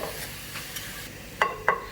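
Cumin seeds roasting in hot oil, a steady soft sizzle under light stirring with two brief sharp scraping clicks near the end, close and without speech.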